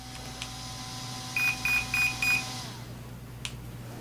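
A brushless ESC in an ARRMA Typhon 4x4 Mega V3 RC truck gives four short, evenly spaced beeps after being switched back on, over a steady electrical hum.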